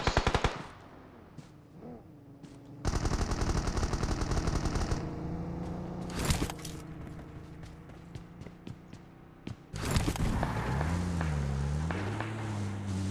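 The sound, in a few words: gunfire in a video game esports match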